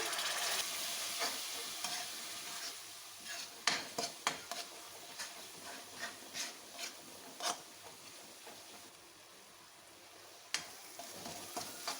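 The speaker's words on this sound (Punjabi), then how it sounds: "ਫਿਰ ਅਸੀਂ ਥੋੜਾ ਜਿਹਾ ਇਹਦੇ ਵਿੱਚ ਪਾਣੀ ਪਾਵਾਂਗੇ" Water goes into a sizzling tadka of spices for a tinda dish, giving a steady frying hiss broken by repeated scraping spoon strokes against the pan, close and without talk.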